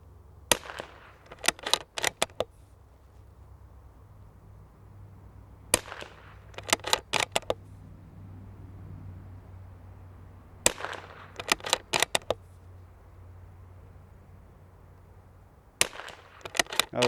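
Lightweight .22LR rifle fired at a paper target outdoors, sharp cracks in four clusters of several quick shots each, separated by quiet pauses, loud and near.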